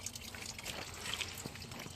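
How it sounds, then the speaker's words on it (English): Water trickles steadily from a small backyard mini waterfall, a close, continuous splashing flow with no voices. "This one's still got water coming out of it. Flowing pretty good."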